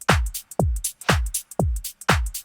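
Drum loop for a hip-hop remix with booming kicks, claps, a reverse clap and crisp hi-hats, a steady punchy pattern repeating about twice per second, loud and alone.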